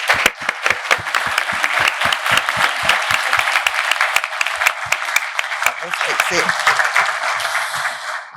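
Sustained applause from a room full of people, loud and steady, with individual claps audible up close throughout.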